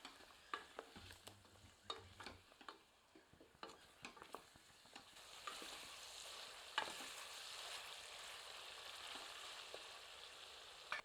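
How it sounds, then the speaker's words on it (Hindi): Turmeric and red chilli powder are stirred into Nagpur-style Saoji mutton curry in a pan, with scraping, knocking stirs at first, then a steadier sizzle rising underneath, close and fairly quiet. "सबको अच्छे से मिला देते हैं।"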